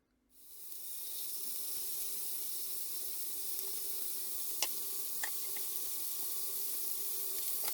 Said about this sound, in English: And now in a hot pan with hot oil, add the chicken pieces